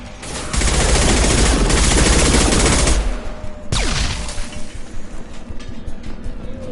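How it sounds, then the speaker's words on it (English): Sustained shotgun fire in the Mass Effect 2 game, a dense barrage of loud booming blasts for a few seconds, then a sharp sweep and quieter rumbling combat noise. "Shotgun!"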